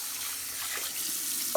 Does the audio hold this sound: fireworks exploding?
no